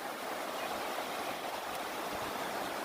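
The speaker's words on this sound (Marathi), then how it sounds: "इकडे पाणी बघा कसं वाहते पूर्ण पाणी" A river after a flood flows steadily, its water rushing as a constant, even hiss with no breaks or other sounds.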